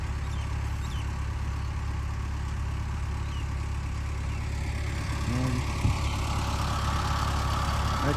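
A farm generator engine runs steadily at a constant low drone, close and continuous with no breaks, alone without talk.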